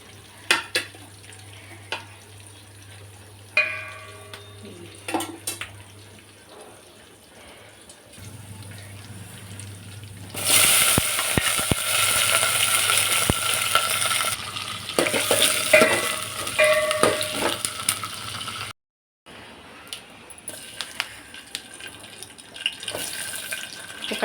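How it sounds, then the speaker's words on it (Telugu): Spices for a drumstick sambar tempering sizzle and crackle in hot oil in a home kitchen, a steady loud frying hiss that swells midway, with stirring, a brief gap near the end and running-water sounds around it. "సాంబార్ పోపు పెట్టాలి."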